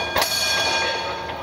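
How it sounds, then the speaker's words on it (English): Train bell ringing on a museum train ride in Savannah, Georgia, heard over the steady rumble of the moving train, with a brief louder clang near the start. "Nice bell ringing."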